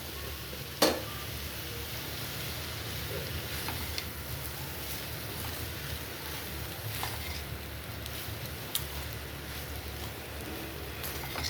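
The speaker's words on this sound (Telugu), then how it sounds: "జస్ట్ కొంచెం ఇలా కలిపేసుకొని ఇందులో రైస్ యాడ్ చేసుకోవాలి" Egg fried rice being stirred in a pan over a low flame, a soft steady sizzle with occasional scrapes and clinks of the spoon against the pan, fairly quiet with no talking.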